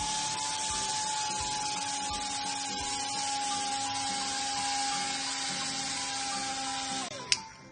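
A small electric motor on a homemade battery-powered model car whirs steadily at a constant high pitch for several seconds, then winds down and stops with a brief click as it is switched off.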